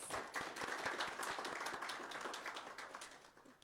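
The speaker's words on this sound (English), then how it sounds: "can we give them a round of applause, please?" Audience applause at a university Three Minute Thesis competition, given in thanks to supervisors; a steady, fairly faint wash of many hands clapping that continues evenly throughout with no voices.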